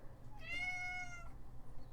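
A cat meows once, a drawn-out, clear mewing call lasting under a second against a low background hum, heard alone without talk.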